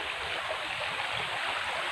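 Steady broadband rush of water pouring over a spillway, constant and fairly loud with no breaks and no voices.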